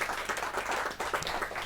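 An audience at a Hindi poetry gathering claps to mark a book launch, producing brief, steady, dense applause throughout the moment.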